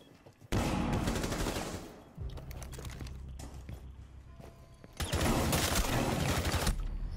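Bursts of video-game gunfire, shotgun blasts mixed with rapid shots, loud and dense for about a second and a half at the start, then a lower rumbling stretch, before a second heavy volley erupts near the end.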